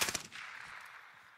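Gunfire in the video game Call of Duty Warzone, a quick burst of sharp shots at the start followed by a sustained hissing, rumbling tail that slowly fades.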